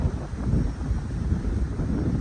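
Wind buffeting a microphone outdoors, a steady low rumble and rushing that holds loud through the whole stretch with no voices.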